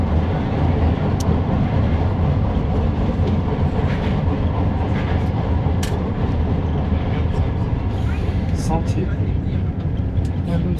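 Interior of a moving metro train, a steady loud low rumble of wheels and carriage filling the whole stretch with occasional squeals and clacks, and faint voices of people talking somewhere beneath the noise.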